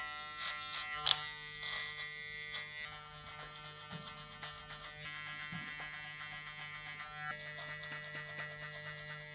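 Electric hair clippers fitted with a 0.5 guard buzz steadily at close range while blending a fade into a beard, with a sharp click near the start and slight changes in pitch as the blade moves.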